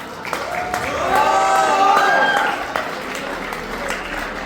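An audience at a Daffodil Boarding School student farewell breaks into applause that swells and then tapers off, a dense wash of clapping with some cheering and a few voices mixed in.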